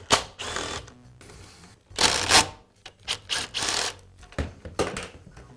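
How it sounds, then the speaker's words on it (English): A lock ring is worked off an Echo leaf blower in a series of short scraping, clicking and rasping bursts at close range, separated by brief quiet gaps, with no talk. "Next, I'll remove the lock ring."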